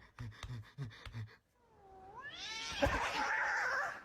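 A cat meows a few times, then lets out a long, rising, drawn-out yowl that grows loud and strained near the end.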